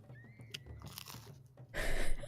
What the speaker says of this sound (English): Awfully loud crunching noise. Yeah, there's a lot of eating sounds.